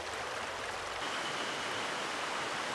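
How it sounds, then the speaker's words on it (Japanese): Water flows steadily through a forest on Rishiri Island in Hokkaido, a continuous rushing wash heard up close with no voices. "森を流れる水の音"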